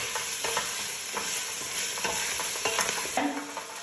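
Harira soup being stirred in a pot just after coriander leaves go in, a steady scraping and clinking of the spoon over a soft background sizzle, close and fairly loud with no voices.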